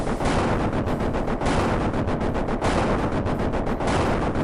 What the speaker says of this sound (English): I'm noticing that those explosions are a little high